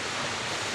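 Choppy sea waves wash against the shore in Pantukan, Davao de Oro, a steady, full rushing noise of surf with no break, heard alone.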